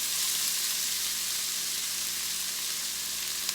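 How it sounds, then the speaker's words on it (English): Green onion, onion and bell pepper sweat in hot meat drippings in a gumbo pot, giving off a steady, even sizzle that holds at one level throughout with no voices. "So I'm going to put it in here in these drippings, and we're going to sweat this stuff down"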